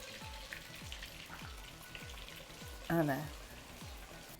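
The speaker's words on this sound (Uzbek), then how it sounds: "Mana qo'ziqorinimiz nihoyatda qovurilyapti" Mushrooms frying in hot oil give a soft, steady sizzle with a crackly texture, fairly quiet and close, while a regular low thumping pulse repeats underneath and a voice briefly speaks over it.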